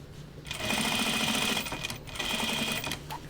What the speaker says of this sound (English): I ended up back stitching right on that thickness.